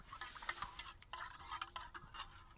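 A utensil scrapes and clinks against a metal mess tin in irregular stirring strokes, close by, outdoors in the woods, with faint background hiss and no voices.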